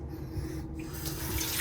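Tap water runs steadily into an electric kettle in a hotel room, a continuous close rushing and splashing that fills the moment with no talk.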